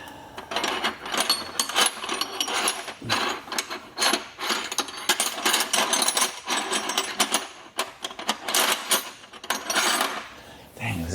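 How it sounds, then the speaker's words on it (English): A ratchet wrench works on the over-axle exhaust pipes of a Porsche Cayman in a home garage, clicking in rapid bursts with short pauses between strokes, close and loud. "I only like ratchets that have a push button."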